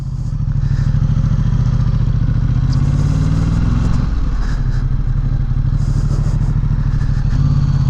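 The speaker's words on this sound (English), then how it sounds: "First ride on the Ducati XDiavel S." A Ducati XDiavel S motorcycle on its first ride, its engine a steady, loud low rumble throughout, with a brief dip and shift in tone midway as the rider works the throttle and gears, no talk heard.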